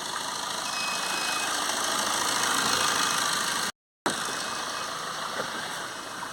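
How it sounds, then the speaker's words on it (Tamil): Tata car engine running during a carbon cleaning service, a steady mid-pitched engine drone that swells slightly as it is revved, then continues after a brief cut in the sound. "நான் ஒரு ரேஸ் மட்டும் பண்ணுங்கண்ணா."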